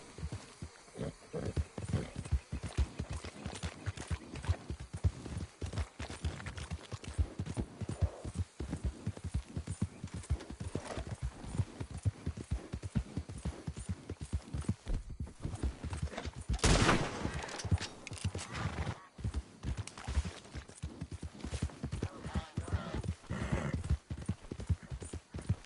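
A horse gallops at speed in the Red Dead Redemption 2 video game, with a steady rapid drumming of hooves that runs for the whole stretch and a brief louder burst partway through.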